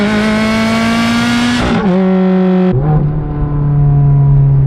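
A Ferrari F430 with a Fabspeed aftermarket exhaust screams at high revs toward 8,500 RPM, a loud close harsh wail that drops briefly twice, as if between throttle blips or gears, before holding steady.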